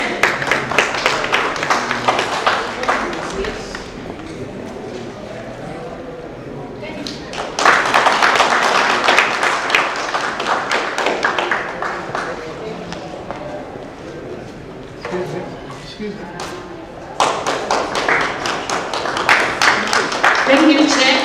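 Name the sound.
audience clapping hands during gift presentation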